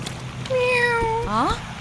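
A cat meows twice, a long drawn-out cry followed by a shorter rising one, fairly close and clear over a low background hum.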